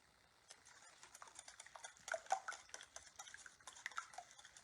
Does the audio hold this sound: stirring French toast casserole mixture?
yes